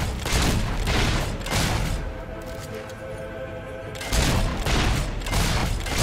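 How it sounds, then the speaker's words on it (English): Battle scene in Fable 3 with heavy gunfire and musket volleys, loud bursts at the start and end separated by a quieter stretch of rumbling and clatter. "We're under fire."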